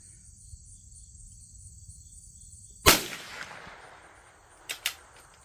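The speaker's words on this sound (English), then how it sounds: "Take a few shots, see if I can hit that orange there, center of your screen." A Savage Rascal .22LR rifle fired at targets outdoors, one sharp crack followed by two quicker lighter shots, over a steady chorus of insects.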